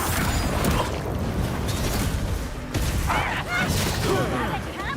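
Exploding enemies in the fantasy action game Avowed send out repeated crashing, booming bursts layered over dense combat clatter, fairly loud and continuous throughout.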